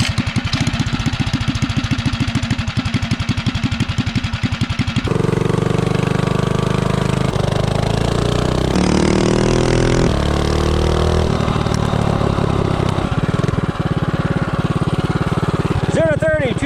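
A 212 Ghost minibike engine with an ARC flywheel, 15-tooth clutch, 60-tooth rear sprocket and 4-to-1 ratio idles with a fast chugging pulse, then revs hard and loud as it accelerates and climbs in pitch.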